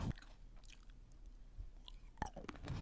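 Close, quiet chewing of a tomato with wet squishing and a few sharp crunchy bites, no talking.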